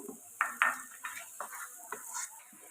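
Finely chopped cabbage is fried for egg fried rice with quiet spatula scrapes and metallic clinks against the pan over a faint sizzle.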